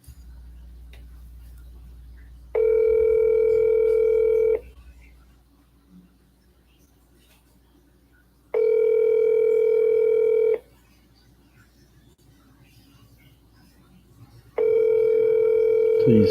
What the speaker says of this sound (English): Please, Mike, answer this phone.